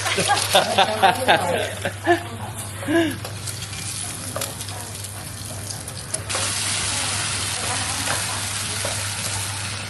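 Eggs sizzling in a hot pan at a Cambodian cooking class in Battambang, a steady frying hiss under people chatting and clinking utensils, the sizzle growing more constant toward the end.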